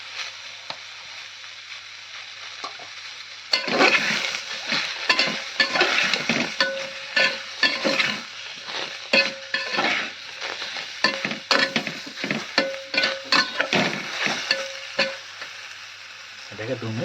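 Spices—cumin powder, turmeric powder and salt—sizzle and crackle loudly in oil in a pressure cooker while being stirred for a soybean and chickpea pulao, starting after a quiet moment and continuing steadily with scraping stirs.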